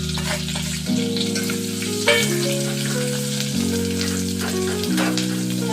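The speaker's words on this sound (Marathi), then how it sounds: "खोबऱ्याचं वाटण आणि कांद्याचं वाटण केलं होतं ना ते टाकून छान परतून घेणार आहे" Steady sizzling of ground coconut and onion paste frying in hot oil for a mutton curry, continuous and close, with faint tonal music running underneath.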